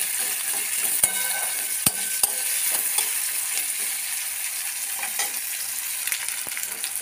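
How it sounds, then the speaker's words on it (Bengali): Onions frying in a pan with a steady sizzle, broken by occasional sharp scrapes and taps as they are stirred, close and fairly loud with no speech. "তো পেঁয়াজগুলো ভালো করে ভেজে নিই"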